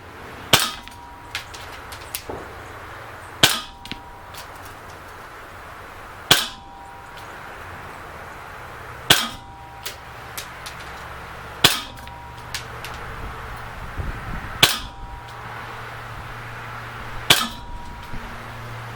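An Umarex SA177 air pistol fires a slow series of sharp, snappy shots, each a few seconds apart, with faint metallic clicks between them, heard fairly close against a quiet outdoor background.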